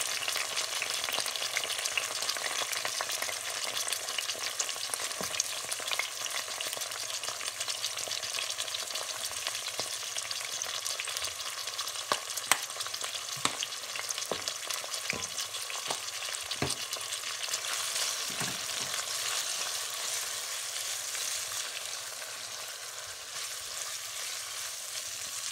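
Tomato and herbes de Provence go into a pan of frying vegetables for a Mediterranean pasta. A steady, close sizzle runs the whole time, broken by occasional stirring clicks and scrapes, with no talking.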